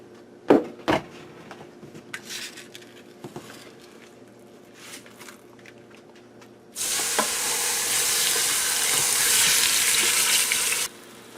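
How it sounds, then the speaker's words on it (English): Pork tenderloin browning in olive oil in a pressure cooker: scattered clinks and pans give way to a loud, steady sizzling hiss that runs on for several seconds, close by with no talk. "I'm going to get that pork loin down in here and get it browned up on all sides."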